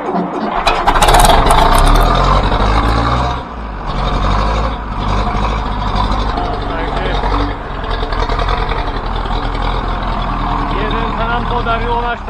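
A tractor or truck engine in a farmyard cranks and roars at full throttle during a winter manure-hauling job, loud and close with a sharp burst early, then settling into a rough, steady rumble while people talk over it.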